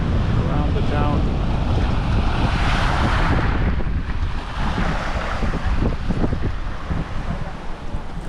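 Surf washes continuously onto Malachi Beach in Barra de Navidad, Mexico, a loud, steady roar of breaking waves mixed with heavy wind buffeting the microphone.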